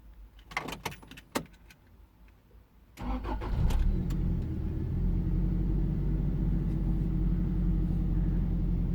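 A Toyota Previa minivan engine cranks over after some light clattering, then settles into a steady, loud idle rumble that continues to the end.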